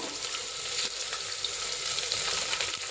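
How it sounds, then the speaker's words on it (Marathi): Chopped onion with cashews and dried coconut slices sautéing in a pan for masala rice, giving off a steady, close, even sizzle and hiss throughout, without voices. "कांद्याला थोडासा गुलाबी होईपर्यंत परतून घ्यायचा"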